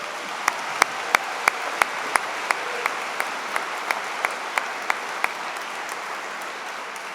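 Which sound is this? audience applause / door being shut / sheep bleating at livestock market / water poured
audience applause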